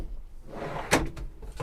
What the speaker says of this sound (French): du tiroir, pardon, pareil, qui se ferme tout seul